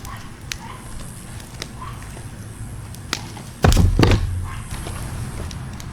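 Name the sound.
wood and cardboard piled onto a chest in a fire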